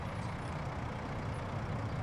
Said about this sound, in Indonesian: Oh, ada truk baru yaitu Rosenbauer Walk in Rescue.